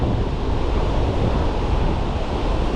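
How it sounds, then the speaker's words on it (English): Ocean surf breaking on a beach where surf perch are fished, with whitecaps and far-reaching sneaker waves; a steady, loud wash of breaking water and wind noise runs continuously throughout with no talking. "Those sneaker waves come in the furthest, and then they also go out the furthest."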